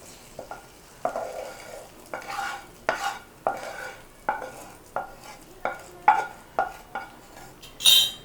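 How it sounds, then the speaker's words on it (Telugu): Fried tempering being mixed into cooked rice for tomato pulihora, a spoon scraping and tapping a vessel in regular strokes roughly every half second to second, close and clear with no talking. "ఇప్పుడు ఈ పోపు అంతటిని రైస్లో వేసేసుకోండి"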